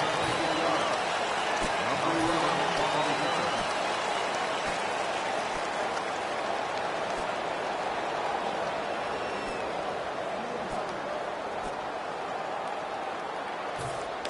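Heavy rain pours down steadily at a football game, a constant hissing wash of loud, even downpour with no letup and no clear voices over it.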